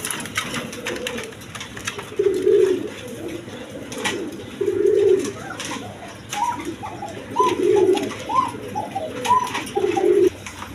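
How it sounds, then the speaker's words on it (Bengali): A pair of racing pigeons coo in repeated soft, throaty bursts, close by and fairly loud, with short pauses between calls over a faint background hum. "দর্শক বন্ধু এইখানে এক পেয়ার কবুতর আছে, রেসার কবুতর"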